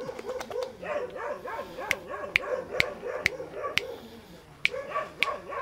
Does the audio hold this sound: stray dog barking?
yes